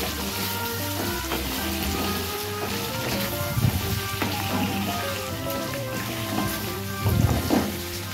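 Curry leaves sauté in a pan with a continuous, busy sizzle up close. A few louder bursts of crackle and stirring rise and fall through it.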